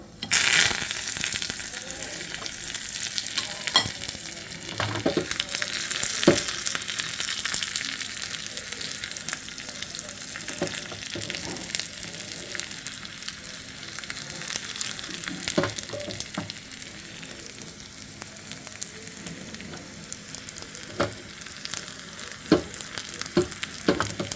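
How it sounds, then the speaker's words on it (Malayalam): Curry leaves and dried chillies crackle and sizzle in hot oil during tempering, a loud, steady frying hiss broken by sharp pops and a few stirring scrapes. "നല്ല പാൽക്കപ്പയും നമുക്കൊന്ന് താളിച്ചു കൊടുക്കണം അത് കിട്ടിട്ടുണ്ട് കറിവേപ്പില ഉണക്കമുളക്"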